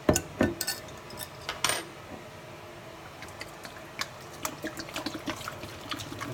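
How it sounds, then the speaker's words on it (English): A kitchen tap runs into a sink as it is rinsed out after beer has been poured down the drain, a steady close stream of water with a few sharp clinks and knocks at the start. "And rinse my sink out when I'm done."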